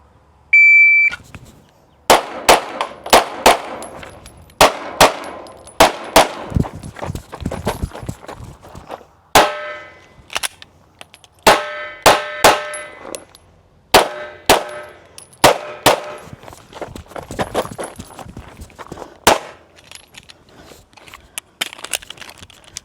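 Gunfire during a USPSA or IDPA shooting competition stage, a long string of loud, sharp shots in rapid bursts and pauses, with ringing metallic clangs from steel targets and brief gaps between strings.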